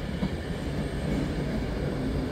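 Avanti West Coast class 390 train passing at Preston station, a close steady rumble of wheels and rushing air filling the whole short stretch.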